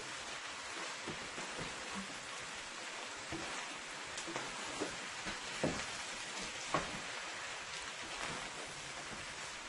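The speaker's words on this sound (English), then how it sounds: "I fry my chicken with salt and some chicken bouillon." Chicken frying in a pan, seasoned with salt and chicken bouillon, gives a steady broadband sizzle with occasional soft pops and clicks throughout.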